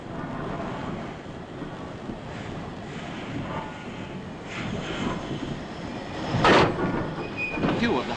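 Trains move through a busy London railway terminus in 1944, a broad rumbling roar of rolling stock and station bustle with a sharp burst of hissing steam or brakes toward the end.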